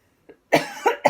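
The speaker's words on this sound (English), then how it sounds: "please excuse my cough." A person coughs alone in a quiet room: one faint short cough, then three loud, close, sharp coughs in quick succession.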